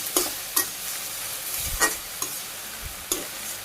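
Water lily stems stirred and fried in a pan in a Bangladeshi village kitchen: a soft continuous sizzle broken by a few sharp scraping strokes of the spatula, close up, with no talking.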